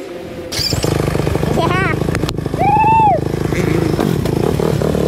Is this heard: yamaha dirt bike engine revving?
yes